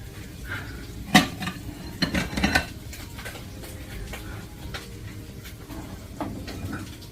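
Breakfast food fries in a pan with a steady, close crackling hiss, broken by a few sharp clanks of a utensil against cookware early on.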